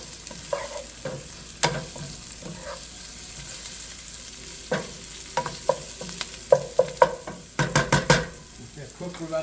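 Sausage for Louisiana-style jambalaya cooks in a pan with a steady sizzle, stirred with clinks and scrapes that grow busier toward the end; no voices.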